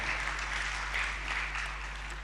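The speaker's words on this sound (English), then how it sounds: "So please give yourselves a round of applause for making it here." Steady applause from an audience at a Capital Markets Authority launch event, a continuous dense wash of clapping at moderate distance with a low mains hum beneath.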